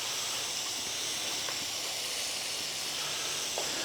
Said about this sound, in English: all we're really waiting for is this bacon to cook up, crisp up, and render down.